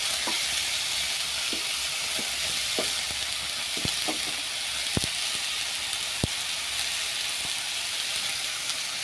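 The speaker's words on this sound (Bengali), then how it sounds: "মশলাটা আমার ভাজা হয়ে গেছে, এর মধ্যে আমি কেটে রাখা পেঁপে ও আলুটা দিয়ে দেবো।" Cut papaya and potato pieces go into hot spices already fried in a pan for a Bengali foli fish curry, filling the kitchen with a steady, loud sizzle and a few sharp crackles and pops.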